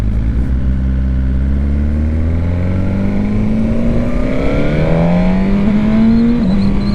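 A Suzuki GSX-R 1000 R sportbike engine roars loudly and close, its pitch climbing steadily as it revs up through the gears, with a clear shift near the end and no talk over it.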